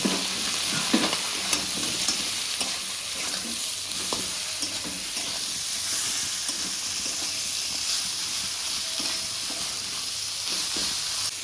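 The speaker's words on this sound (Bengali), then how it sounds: "এবার ভালো করে নাড়াবো।" Mustard greens with turmeric stirred in a frying pan, a steady loud sizzle and hiss running throughout with scattered soft scraping knocks of the spatula, no voices.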